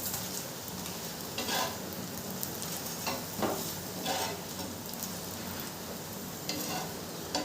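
A sattu paratha frying in a little oil on a pan, a continuous close crackling sizzle broken by a few scraping turns and presses of a spatula.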